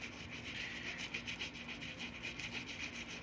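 A brush scrubs sneakers during shoe cleaning, a steady rapid back-and-forth rubbing at close range, quiet and continuous, with no voices.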